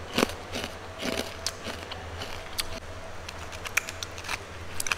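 Crunchy Coco Crunch cookies coated in Nutella chocolate bitten and chewed close up, with repeated crisp crackling crunches over a few seconds and no talking.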